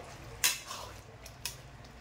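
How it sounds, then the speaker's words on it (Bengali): A spoon scraping and clinking against a pan while palak paneer with cream is stirred: two brief metallic knocks about a second apart with soft scraping between, faint and alone. "এবার একটু নাড়িয়ে দেব।"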